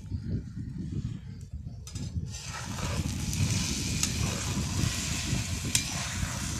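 Egg bhurji roasting in a pan over a low flame, a soft steady sizzle with occasional stirring scrapes, close and continuous.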